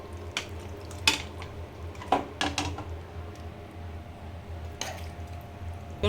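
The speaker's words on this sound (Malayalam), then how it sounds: "നാടൻ ചിക്കൻ റോസ്റ്റ് റെഡി ആയിട്ടുണ്ട് നമുക്ക് സെർവ് ഡിഷിലേക്ക് മാറ്റാം" Native-style spicy chicken roast, or chicken perattu, is spooned from the pan into a serving dish, with quiet scrapes and several sharp clinks of metal on cookware spaced across a calm kitchen.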